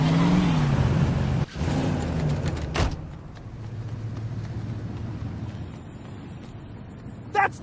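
Car driving in the Saints Row video game, a steady engine drone with a sharp revving pitch rise early on, a couple of abrupt knocks, then a lower idling hum and a brief rattle near the end.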